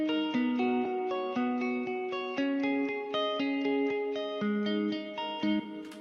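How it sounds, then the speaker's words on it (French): A synthesized melody produced in FL Studio runs through Valhalla Vintage Verb reverb, with evenly spaced plucked notes in a steady repeating pattern and a lingering wash of reverb tails, played alone without voices. "On a mis un Valhalla Vintage Verb, comme je vous ai dit, pour envoyer de la reverb dans le casque."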